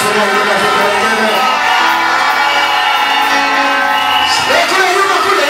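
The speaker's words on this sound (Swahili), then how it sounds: "Sasa makofi na ngoma vigelegele" A Sunday church worship crowd bursts into loud, continuous cheering, with high trilling ululation and whoops over a dense wall of voices; clapping and drums are buried in the din.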